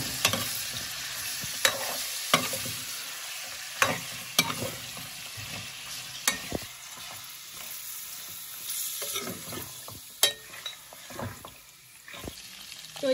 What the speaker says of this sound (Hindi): अभी मटन को डाल के इसको अच्छे से भूनना है।